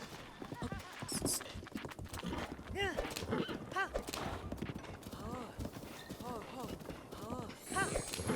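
Horse hooves clip-clop rapidly in a steady galloping rhythm in The Legend of Zelda: Breath of the Wild, with game sounds and a person talking over them throughout.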